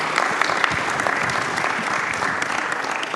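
A live audience at a Jogjasemesta cultural stage event in Yogyakarta breaks into sustained applause: dense, even clapping from many hands, close and lively, lasting throughout.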